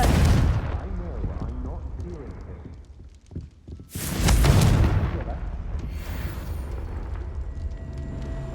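In a video game, the Confringo spell bursts into a heavy explosive boom after a rumbling buildup, followed by a sustained crackling roar, with a spoken voice at the start.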